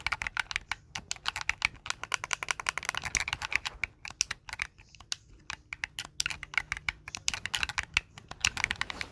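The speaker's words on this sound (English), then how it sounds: "How do you like my clickety clackety gameplay? Clickety clackety ASMR." Rapid, continuous clicking of a computer keyboard during gameplay, crisp and close with an uneven typing rhythm and no talk over it.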